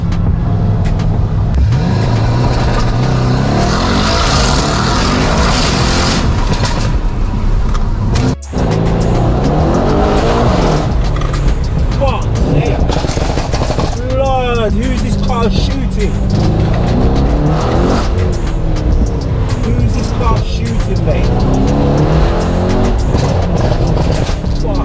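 A stage 3 Mercedes-AMG E63s of about 1007 bhp, with PS4 tyres spinning at the rear, accelerates hard. The engine roars loud and close and climbs in sweeping revs, with a voice talking over it.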